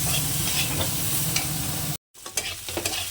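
Food sizzles and crackles steadily in a hot pan, broken by a brief silent gap, then resumes with sharper spattering pops.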